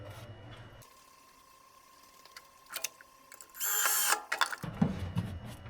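Power drill driving a screw into a 1955 Chevy, a short close whirring burst of the motor under load, with clicks and handling noises around it.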